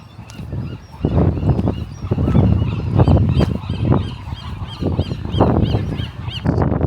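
A dense chorus of honking seabirds calling over one another at a nesting site beside a walkway on Alcatraz Island, San Francisco, loud and close, with gusty wind noise underneath.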